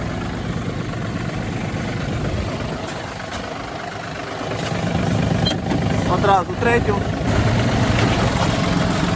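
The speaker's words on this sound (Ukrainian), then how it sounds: "Давайте перевіримо, як працює вал відбору потужності на кожному з тракторів." A Yanmar RS-30 Japanese mini tractor diesel engine idles and runs with its power take-off shaft engaged, a close steady throbbing chug that grows louder partway through, with someone talking over it.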